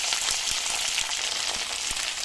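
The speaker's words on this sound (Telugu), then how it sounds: "కరివేపాకు వేగాక పచ్చిమిర్చి, నేను కొంచెం కారంగానే తింటాం, అందుకని కొంచెం ఎక్కువగా పచ్చిమిర్చి వేసుకున్నాం." Curry leaves and green chillies fry in hot oil, giving a steady close sizzle with a few faint stirring taps.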